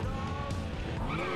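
A car crashes in the video game Gangster New Orleans: a loud, sustained engine drone with a short tire skid and rattle over about a second and a half, with no talking.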